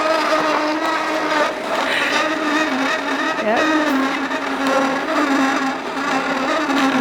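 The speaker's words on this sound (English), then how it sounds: "all I have to do is turn it on, and we start the juicing process." A juicer runs with an unusually loud, harsh motor whine, steady and close throughout, with a brief word spoken over it.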